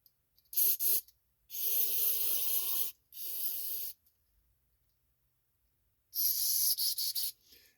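Carburetor cleaner sprayed in short bursts into the small holes of a Poland Pro nine-and-a-half horsepower snowblower carburetor: a brief double hiss, two longer sustained sprays, a quiet pause, then a final spray with sputtering ends.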